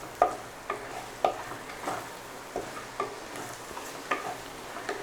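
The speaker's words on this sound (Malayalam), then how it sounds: "ഇനി അതും ഒന്ന് നന്നായിട്ട് മിക്സ് ചെയ്യാം." Beef curry masala being stirred and mixed in a pan for Kerala-style beef curry, with a soft sizzle underneath and sharp, regular spoon taps against the pan about once a second.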